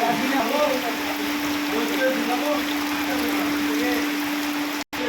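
Steady rain falls throughout, a dense hiss with a constant tonal hum and faint birdlike chirps over it, broken only by a brief dropout near the end.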